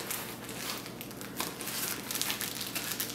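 Plastic bags crinkling and rustling up close as camera gear is packed, a continuous dry crackle with no talk.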